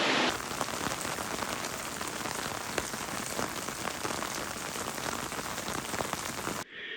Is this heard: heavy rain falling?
yes